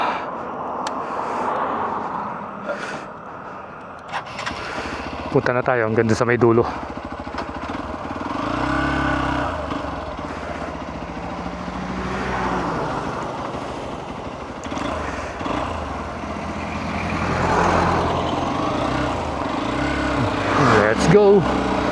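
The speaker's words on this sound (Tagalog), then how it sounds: "Ang bibilis ng mga sasakyan." Fast vehicles, motorcycles among them, rush past on a road near the Porac Mega Dike construction area, engine noise swelling and fading in repeated passes while a person talks over the traffic.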